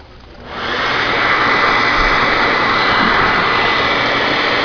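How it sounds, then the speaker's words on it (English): A hair dryer powers on and blows air steadily into black plastic garbage bags to inflate a homemade solar hot air collector, a loud constant rushing whoosh that rises within the first half second and holds alone. "I have finally a dryer here that I think will not put out all kinds of heat."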